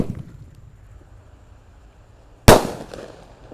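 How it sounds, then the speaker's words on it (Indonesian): A "golden eagle" firecracker bursts with one sudden loud, sharp bang after a near-silent wait, its blast ringing out and decaying over the next second outdoors. "Lanjut kita menyalakan mercon yang lebih besar ini. Ada elang emas ya."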